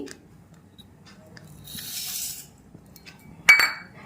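Dry rice and lentils poured into a bowl in a kitchen while preparing khichuri, a soft rattling rush followed by a sharper clink near the end, close and fairly quiet.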